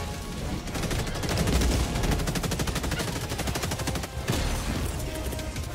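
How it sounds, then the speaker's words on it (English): Dense, sustained automatic gunfire in Helldivers 2, a continuous rapid stream of shots with layered bursts and impacts, loud and close throughout with a brief dip near the end, no talking. "They're shooting me through the wall"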